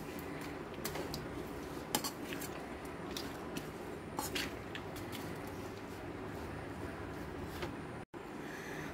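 A spoon scrapes and clicks against a pan as chilli powder, part Kashmiri and part regular, is stirred into a nutmeg pickle, with scattered metallic taps over a soft steady background.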